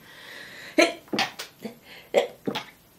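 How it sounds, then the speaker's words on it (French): A quiet, close run of sneezes and throat noises: several sharp, breathy bursts in a row against a soft background hiss. "Attendez, je vais éternuer."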